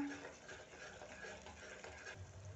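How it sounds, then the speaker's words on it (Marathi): Coriander being stirred into a potato masala in a pan, a steady soft scraping and stirring with faint frying sizzle underneath, no talk. "आता यामध्ये भरपूर अशी कोथिंबीर घालून घ्यायची आहे. कोथिंबीर ही छान मिक्स करून घेऊया."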